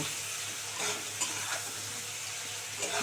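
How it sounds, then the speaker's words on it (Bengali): Turnip and potato pieces frying in a pan, a steady close sizzle with occasional stirring scrapes, no voices. "শালগমটা আর তোমার হচ্ছে আলুটাকে ভালো করে লাল করে ভাজব"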